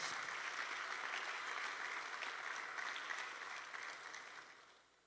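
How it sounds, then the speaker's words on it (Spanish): A church congregation applauds during a sermon, a steady, fairly distant wash of many hands clapping that holds for a few seconds before tapering off. "Dele fuerte el aplauso al Señor, hermanos."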